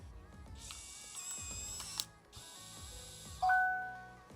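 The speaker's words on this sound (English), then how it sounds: "it makes a noise to let you guys know that's unlocked." The gear motor of a eufy Security Video Smart Lock E330 whirs and grinds through a couple of mechanical ratcheting bursts as it unlocks, followed by a clear two-tone electronic chime; close up, no voices.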